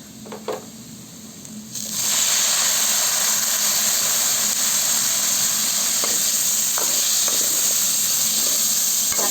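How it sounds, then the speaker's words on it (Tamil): Tomatoes for Tamil manathakkali vathal kulambu drop into a hot pan and burst into a loud, steady sizzle and hiss after a quiet opening second or two, then keep frying close by. "இப்போ தக்காளி போட்டு வணக்கிக்கலாங்க"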